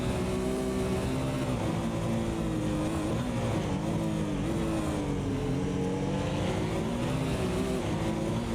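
Porsche GT1 race car engines drone and whine continuously in a PC racing game at the Montreal circuit. Loud, dense engine tones rise and fall as the cars shift and accelerate, and there is no break in the noise.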